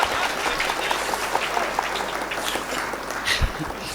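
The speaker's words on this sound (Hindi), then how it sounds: "तालियां एक बार जोरदार।" An audience at a Hindi comedy poetry gathering claps loudly and continuously, a thick wash of hand claps that holds steady throughout.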